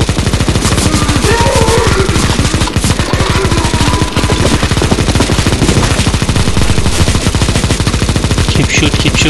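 Rapid, continuous automatic gunfire from a CS:GO zombie escape map, loud and close, a dense stream of shots running almost without a break, with a faint voice underneath.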